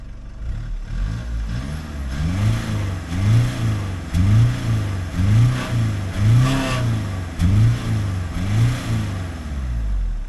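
Mercedes diesel car engine running while being driven, loud and close, with a regular series of revving surges and falls about once a second, alone without talk.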